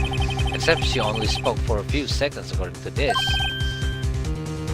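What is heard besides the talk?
cell phone ringtone ringing in Ace Attorney video game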